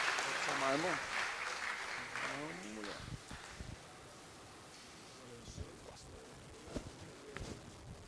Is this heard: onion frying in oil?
no